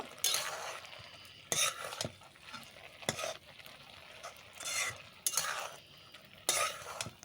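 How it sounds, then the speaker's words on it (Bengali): Drumstick greens stirred in a pan: a utensil scrapes and clatters against the metal in repeated bursts over a soft sizzle, close and fairly quiet, with no voices. "বেশ ভালো করে এখন আমি একটু নাড়িয়ে নেব।"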